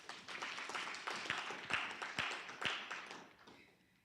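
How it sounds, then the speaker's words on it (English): An audience applauds at an awards ceremony honouring inventors with newly granted patents. The steady crowd clapping, with a few sharp nearby claps, lasts about four seconds before fading out. "I thought we'll clap hands."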